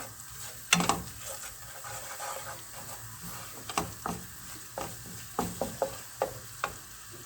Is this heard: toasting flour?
yes